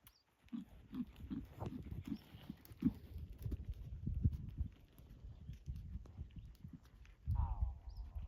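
Horse being trained in a riding lesson, hooves clip-clopping in a steady trotting rhythm close by, with a trainer's voice talking and urging the horse on over the footfalls.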